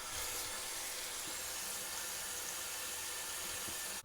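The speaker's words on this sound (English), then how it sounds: "I'm going to wash this with soap and water and dry it" Tap water runs steadily as a copper plate is washed with soap before silver electroplating, a continuous close splashing hiss with faint irregular knocks and no voices.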